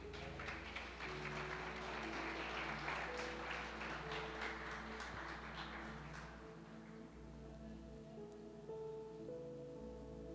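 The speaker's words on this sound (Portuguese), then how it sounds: "Eu quero que você dê um aplauso ao Senhor Jesus." A church congregation applauds, a broad wash of clapping that swells loud for several seconds, then thins and fades out while sustained organ or keyboard tones continue underneath.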